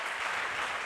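A church congregation at a Bible study bursts into a short, even wash of clapping, moderately loud and nearby, lasting only about a second.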